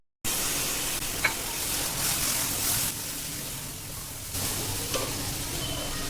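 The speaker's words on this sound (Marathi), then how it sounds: "आता ह्याला छान तेल सुटेपर्यंत आपण भाजून घेणार आहोत।" Ground masala paste frying in oil for egg masala gives a steady, close sizzle with stirring scrapes, a brief clink near the start and a slight dip and swell in intensity partway through.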